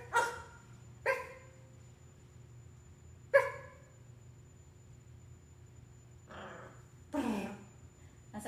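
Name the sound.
dog barking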